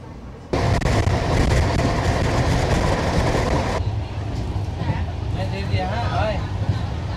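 A train pulling out of Kishanganj station, a steady loud rumble and clatter of wagons that drops to a lighter running noise partway through.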